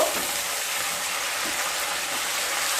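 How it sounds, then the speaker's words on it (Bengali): Ginger paste and tomato paste are stirred together in a hot frying pan, giving a continuous loud sizzle and frying hiss with soft scraping stirs and no talk. "দিয়ে সব একসাথে ভালো মতো মিশিয়ে নেব।"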